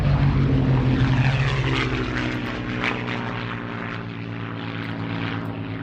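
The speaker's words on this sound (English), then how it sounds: "So turn up the sound and enjoy the wonderful, beautiful sound of the Merlins." Rolls-Royce Merlin piston aircraft engines on a plane pass overhead, loud and close at first with a deep throbbing propeller drone, then fading into a rougher receding roar.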